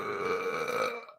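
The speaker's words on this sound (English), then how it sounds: "if you get offended by that burp" A single long, loud burp from a man hosting a live saltwater aquarium Q&A, one sustained throaty belch that fades out at the end with no talk over it.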